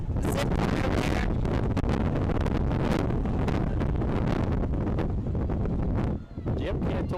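Strong wind buffets the microphone at an outdoor college softball game, a loud continuous roaring rumble that briefly dips near the end.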